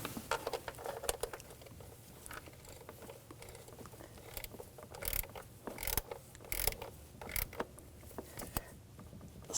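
A ratchet clicks in quick bursts while tightening a nut on the starter of a 2007-2013 BMW X5 3.0L inline-six, faint and close, with intermittent metallic knocks and pauses between strokes.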